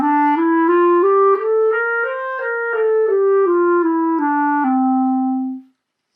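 A lone clarinet plays the klezmer Adonai Melach mode scale up and back down, each note distinct and legato at an even pace, close and clear, ending on a long sustained low tone.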